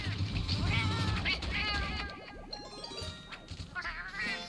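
Cat meowing from the video game Monster Hunter Freedom Unite, several short synthesized meows and cries with a springy boing, under someone talking over game music.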